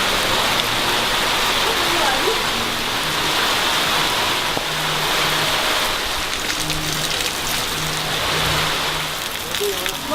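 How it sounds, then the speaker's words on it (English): Fresh rain pours down steadily in Indonesia, a dense, loud hiss of drops that fills the scene throughout, with faint voices murmuring underneath. "It just started raining."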